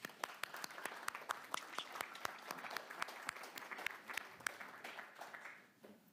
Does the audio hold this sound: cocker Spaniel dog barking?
no